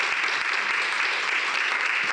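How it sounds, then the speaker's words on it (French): A conference audience applauds the speakers of a precision oncology round-table panel, a brief, even burst of many hands clapping at steady volume with no voices over it. "On peut les applaudir très fort"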